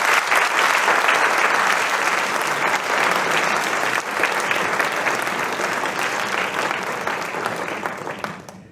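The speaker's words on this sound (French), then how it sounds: "Alors peut-être une petite main d'applaudissement." A theater audience gives sustained, dense applause for the organizers and actors, steady clapping that holds loud for several seconds before tapering slightly at the end.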